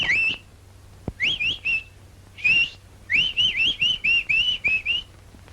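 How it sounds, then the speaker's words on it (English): A nightingale sings a run of clear, whistled phrases, short bright notes repeated in quick bursts with brief pauses, fairly close and alone over a faint low hum. "Ever heard the nightingale?"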